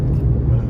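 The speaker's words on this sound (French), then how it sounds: "Le V12 est là" An Aston Martin V12 engine rumbles loud and close with a deep, steady low-end drone for under a second, with no talk over it.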